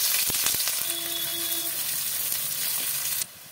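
Chopped onion sizzles in hot oil with two bay leaves in a pan for a mutton and potato curry, a steady close crackle with a few sharp pops and a faint tone, cutting quieter near the end.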